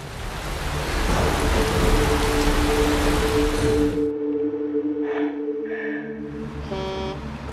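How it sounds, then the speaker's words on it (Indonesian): Heavy rain driven by strong wind roars steadily for about four seconds, with a sustained musical tone over it, then cuts off abruptly to quieter, scattered sounds. "hujan turun disertai angin kencang"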